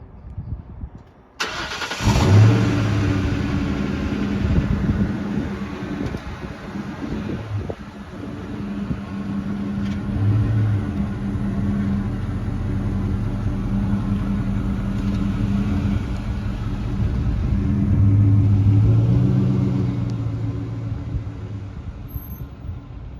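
A silver 2002 Ford Mustang GT with the stock V8 starts up and pulls away. A sudden start is followed by a loud, steady engine rumble that swells and holds as it drives off, with no voices.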